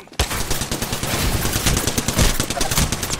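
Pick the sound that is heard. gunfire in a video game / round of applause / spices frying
gunfire in a video game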